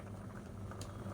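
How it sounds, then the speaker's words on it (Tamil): Sago, almond and vermicelli payasam boiling in a pot on a medium flame, giving a soft continuous bubbling simmer that is faint and steady throughout. "இப்போ மீடியமான ஃப்ளேமில் கொதிக்கட்டும்."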